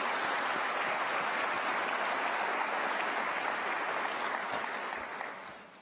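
A large convocation audience gives sustained, dense applause for award recipients, a thick, even wash of many hands clapping that holds steady and then tapers off at the end.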